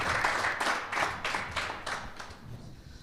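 A modest room applauds at the Bank of Ireland Dr McKenna Cup draw, the clapping fairly soft and slightly distant, pulsing in loose bursts before fading out.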